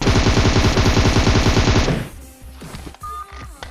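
Rapid automatic gunfire in PUBG, fired at an enemy climbing onto a roof: a loud, dense burst of shots for about two seconds, then stops abruptly, leaving scattered faint in-game clicks and thuds.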